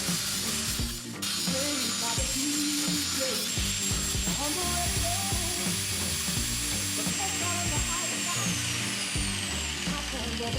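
A power tool cutting a knife blade out of a steel file, with a grinding, buzzing whine and rough rasping that varies in pitch as the cut proceeds, close and loud, running continuously.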